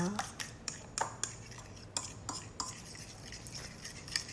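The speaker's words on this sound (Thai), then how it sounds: "แล้วก็ผสมผงกะหรี่แล้วก็ไข่นะคะด้วยกัน แล้วก็ค่อยๆ ตีนะคะ" A utensil beating egg with oyster sauce and curry powder in a bowl, a string of light, irregular clinks and taps against the bowl, close and fairly quiet.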